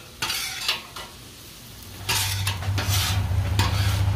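Tater tots are dropped into a 13 by 9 pan in a few quick clattering bursts, followed by a low, steady background hum.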